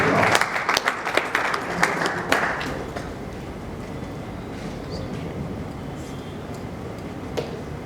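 An audience at a book launch on conflicts in the church applauds a speaker, with a burst of claps in the first few seconds that then thins into a quieter murmur of room noise.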